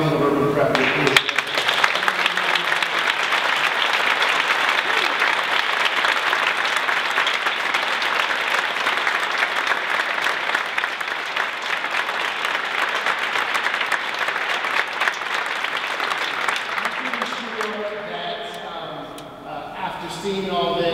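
A sustained ovation from a large audience at a convocation keynote, dense clapping that holds steady for most of the stretch before fading near the end as a voice comes back in.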